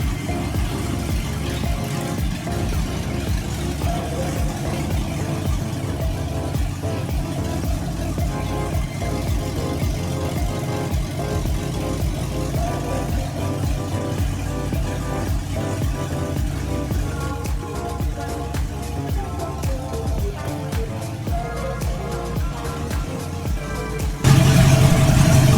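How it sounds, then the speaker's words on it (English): An LS-swapped Jeep Grand Wagoneer engine runs steadily at a loud, close, even drone for the whole stretch, with a slight jump in level at the very end, and no talking. "I'm gonna see if you guys can hear me over the motor"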